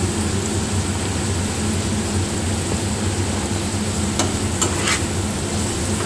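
Whole garlic cloves fry in a pan for butter paneer, a dense continuous sizzle with a low steady hum underneath and a few quick scraping stirs near the end, close by with no talking.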